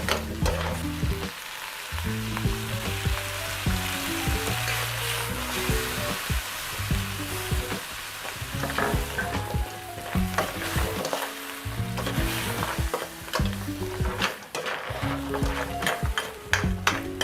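Crab cooks in a pan with oyster sauce and Sprite, giving a steady, close sizzle and bubbling hiss throughout, broken by repeated clinks and scrapes of stirring.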